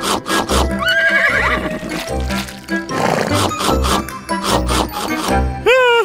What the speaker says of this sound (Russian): Накорми шпинатом белого коня!